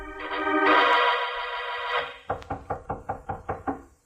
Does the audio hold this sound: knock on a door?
yes